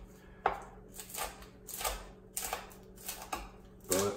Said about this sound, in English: I'll basically just kind of slice these up and try to leave most of the seed on the board